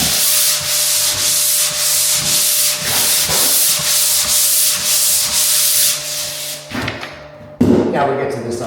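A sander works over taped drywall joints, producing loud, steady rasping strokes in a regular rhythm for several seconds before stopping with a thump and some clatter.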